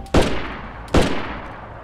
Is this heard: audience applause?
no